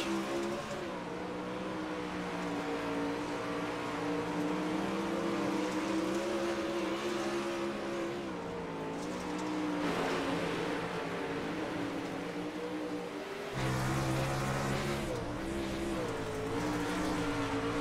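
Race car engines from a sim racing game at Indianapolis, a steady multi-layered engine drone with shifting pitch as cars run down the back stretch, a sharp change near the end, loud and continuous with no talk.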